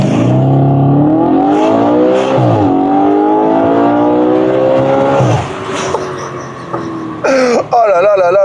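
A car engine screams at high rpm near 8000 revs, climbing through several rising gear pulls and then dropping off before a final sharp rev burst, loud and close.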